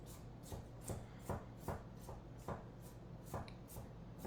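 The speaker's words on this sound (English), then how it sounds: "I'm just going to do a rough chop here" A knife roughly chops a garlic clove on a board, about a dozen quiet, evenly spaced taps close by, with no talking.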